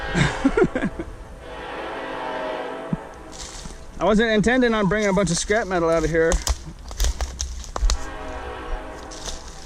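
A loud passing train rumbles through, with a long horn blast in the middle, while someone talks over the noise.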